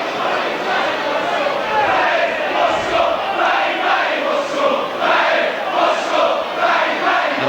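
A Charlton Athletic football crowd at a 1988/89 home match against Tottenham Hotspur gives off a steady, loud roar of many voices, rising and falling in chanting swells throughout.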